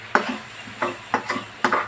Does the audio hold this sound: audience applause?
no